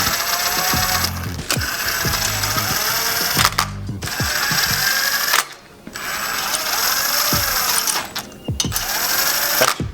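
A ratchet wrench clicking fast as it snugs the sump cover bolts on a Honda GX630 engine, in several long close bursts with brief pauses between them.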